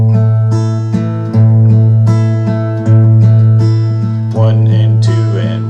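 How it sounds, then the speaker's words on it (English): Acoustic guitar finger picking a steady four-beat pattern for the intro of a song, a bass note and treble strings plucked in an even repeating rhythm, close and loud with no voices. "So that 4-beat finger picking pattern sounds like this."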